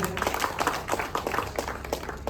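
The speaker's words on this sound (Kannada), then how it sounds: "ಜೋರ ಚಪ್ಪಾಳೆ" Loud applause from an audience at a felicitation event, dense clapping sustained throughout with a few louder bursts standing out.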